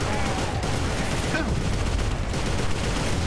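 Gravity gun shots in the co-op shooter Inversion form a dense, continuous barrage of booming impacts that fills the whole moment with rumbling noise.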